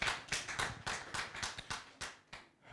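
Faint applause from an audience, sounding like a few hands clapping in a steady, even rhythm of distinct claps that fade slightly toward the end.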